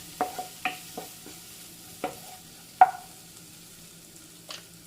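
A papaya dish with chili powder is stirred in a pan over a low flame, a quiet background with a series of distinct spoon scrapes and taps, four bunched early, then a few spaced strokes.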